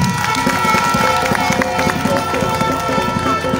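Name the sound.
crowd applauding at a campaign rally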